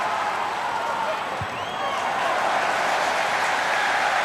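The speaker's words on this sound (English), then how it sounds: "And a big cheer and round of applause." A rugby stadium crowd at a Munster versus Ulster match cheers and applauds, a broad, dense roar of noise sustained at an even level from start to finish, with commentary faintly underneath.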